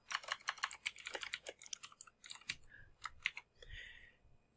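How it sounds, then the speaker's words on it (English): Typing on a computer keyboard to enter text, a quick run of close, crisp key clicks in uneven bursts with brief pauses, no voices. "And let's go ahead and type in."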